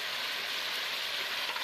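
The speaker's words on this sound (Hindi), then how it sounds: "तो अब हम हरी मिर्च को सिर्फ 20 से 30 सेकंड के लिए इसमें फ्राई करेंगे।" Seedless green chillies cut lengthwise fry in a karahi of oil for Afghani chicken karahi, giving a loud, dense, continuous sizzle close up with no pauses.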